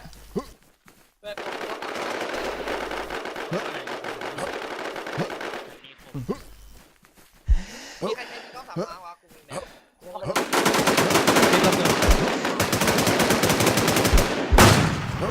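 Automatic gunfire in the online survival shooter Infestation, with long loud sustained bursts at the start and end and scattered single shots in between, while players talk excitedly over it.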